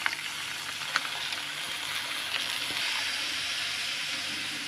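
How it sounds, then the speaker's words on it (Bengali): Water poured into a pan of meat curry that has been fried down well, producing a steady, loud hissing sizzle with a few faint clinks, close and without talk. "এখন দিয়ে দিচ্ছি জল।"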